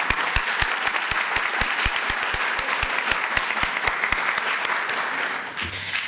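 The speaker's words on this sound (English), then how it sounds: "give yourselves a round of applause" A crowd at a high school graduation ceremony claps loudly and continuously while sharp, evenly spaced thumps beat through it, fading slightly near the end.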